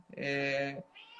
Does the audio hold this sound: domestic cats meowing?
yes